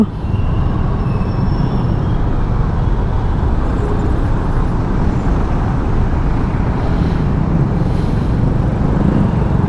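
Dense road traffic on a crowded, congested street in Manila, a steady loud rumble of engines and tires continuing throughout without a break.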